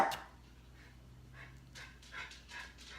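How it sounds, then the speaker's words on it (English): Dogs at a rural home near Bremerton on Puget Sound give faint, distant panting and a few soft yips and barks, quiet and intermittent. "my dogs are barking"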